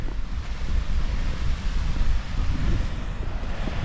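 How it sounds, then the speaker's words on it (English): Wind blowing across an exposed fell top in the Howgill Fells on a chilly day, a steady low roar with gusting buffets against the microphone, continuous and loud throughout. "Wind. It's quite chilly up here,"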